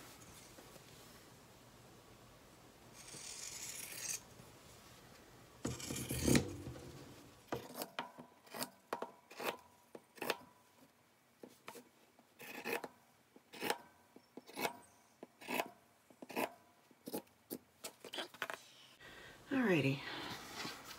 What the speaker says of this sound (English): we are going to take my pinking shears